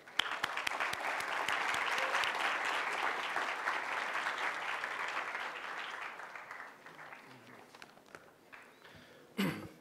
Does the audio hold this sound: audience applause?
yes